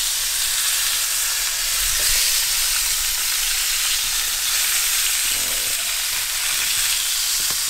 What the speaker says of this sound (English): It sears better when you just leave it lay there